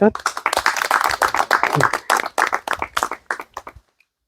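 A burst of enthusiastic clapping from an audience at a YouTubers meetup in Jashpur, dense at first and then thinning out into scattered claps before fading to silence.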